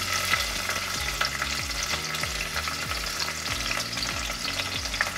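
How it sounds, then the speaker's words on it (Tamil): Thinly sliced onions with green chillies fry for mutton biryani, a steady broadband sizzle running throughout while a spoon scrapes and stirs the pan in regular repeated strokes, close and fairly loud. "வெங்காயம் நல்லா கோல்டன் ப்ரௌன் கலரில் வதங்கி வரணும், அது வரைக்கும் வதக்கிக்கலாம்"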